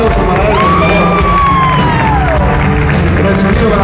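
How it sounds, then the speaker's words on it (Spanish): A concert crowd at the Metropolitan cheers and claps loudly, with a rising and falling whistle cutting through the continuous roar of voices. "un aplauso para él, por favor"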